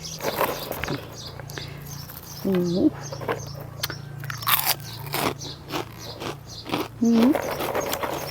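Crispy pork crackling being bitten and chewed close up, loud repeated crunches and wet chewing, with someone talking throughout.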